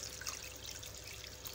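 Water trickles steadily into a pot of desi mangoes being prepared for a sweet mango murabba, a soft continuous pour with faint dribbling and no voices.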